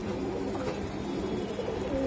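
Pigeons, including Budapest and racer breeds, coo softly amid a steady low murmur of a busy bird market, with no clear voices over the continuous background.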